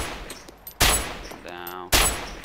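Gunfire in the survival game DayZ, two loud sharp shots a second apart, close and punchy, with quieter game sounds between them.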